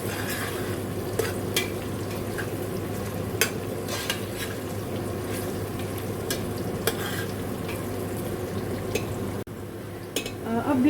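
Onions fry in a pot over a medium-high flame for aloo gosht. A steady, close sizzle continues throughout, with faint clinks of stirring now and then.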